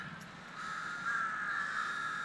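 Crows cawing in Lumpini Park, Bangkok, a run of harsh, drawn-out calls that carry on continuously and grow a little louder midway, with faint park ambience beneath.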